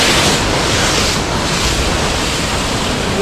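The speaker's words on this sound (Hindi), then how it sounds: "ये झरने का पूरा शोर है।" Continuous roaring rush of a mountain waterfall on the Kedarnath trek, loud and steady throughout with a broad hissing wash, no voices heard.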